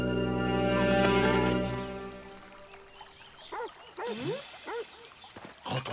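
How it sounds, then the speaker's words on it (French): A dog gives a series of short yelping barks, moderately close, after fading tonal music. "C'est le chien."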